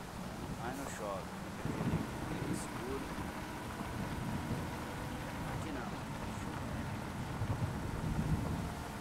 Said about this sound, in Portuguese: Só faz o trovão, mas não chove.